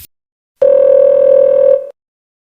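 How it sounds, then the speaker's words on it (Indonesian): A single steady electronic telephone tone sounds in an apartment scene from a Steven Seagal action film. It is loud and clear, lasts just over a second, and stands alone with no talk. "si Ruslan yang tinggal di sebuah apartemen mendapat telepon"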